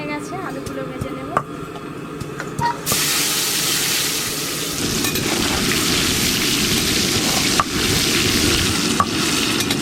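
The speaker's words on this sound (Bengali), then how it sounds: "তেল খুব ভালো করে গরম হয়ে গেছে, আলুগুলো ভেজে নেব।" Potatoes seasoned with turmeric and salt drop into very hot oil for a chicken curry, and a quiet pan suddenly swells into a loud, continuous frying sizzle punctuated by occasional stirring knocks.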